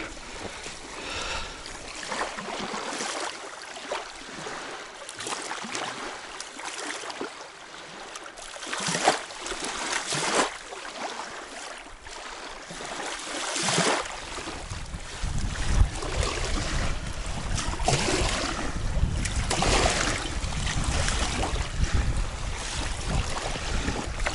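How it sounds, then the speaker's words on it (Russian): Surf rolls and crashes onto the shore below a steep cliff where bottom fishing lines are set, a broad roaring wash mixed with wind that swells noticeably louder and heavier in the second half. "Вот это прибойчик, ребята, жарит"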